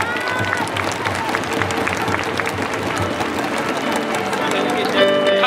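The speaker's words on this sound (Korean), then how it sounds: "우리 신인 선수의 가족분들을 박수로 맞이해 주시기 바랍니다" A crowd applauds to welcome rookie players' families at a KIA Tigers baseball ceremony, a steady wash of many hands clapping throughout with crowd noise and faint tones mixed in.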